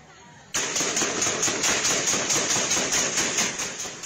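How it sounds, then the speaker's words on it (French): Rapid bursts of gunfire from powerful weapons during a mass shooting at a national holiday celebration in Highland Park, Chicago, beginning abruptly as loud, dense rhythmic volleys that continue without pause. "près de 50 coups de feu retentissent à Highland Park"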